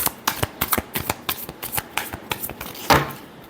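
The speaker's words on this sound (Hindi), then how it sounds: "Last shuffle." Tarot cards being shuffled by hand in a rapid series of crisp riffling slaps and flicks, close and clear, ending in a louder final snap.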